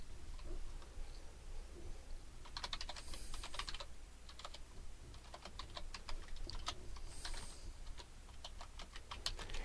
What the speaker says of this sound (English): I'm going to type up a make-believe address here.